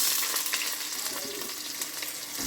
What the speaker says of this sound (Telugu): ఇక ఇవన్నీ వెజిటేబుల్స్ వేసేద్దాం.